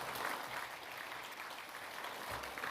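An audience at a sports awards ceremony claps steadily in a dense, even round of applause that carries through the whole stretch without a break.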